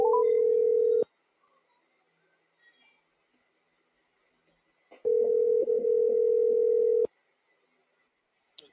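A steady telephone dial tone sounds while a phone call is placed, first for about a second, then again for two seconds after a long silent gap, with faint clicks between.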